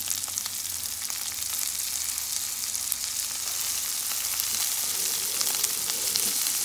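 Steady, loud sizzle of salted fish and garden tomatoes frying in a pot, a continuous close crackle with faint stirring and no voices.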